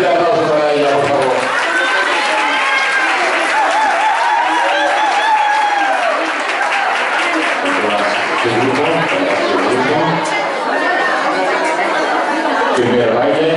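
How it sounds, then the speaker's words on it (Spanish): A live audience claps and chatters in a loud, lively mix for line dancer Marita Torres at a line-dance event, with excited voices mixed into the applause. "un triple, triple, triple aplauso para ella, por favor"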